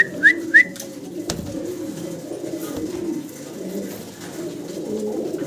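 Magpie Danish fancy pigeons cooing nearby in low, rolling, repeated coos, with a few brief high chirps early on and no speech.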